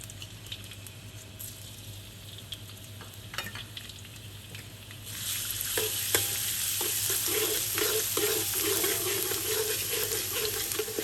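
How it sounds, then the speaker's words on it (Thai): Garlic fries in a hot wok, quiet at first with a few clinks, then a loud, steady sizzle and crackle sets in midway and holds with faint stirring, no one speaking. "เจียวกระเทียมให้หอมค่ะ"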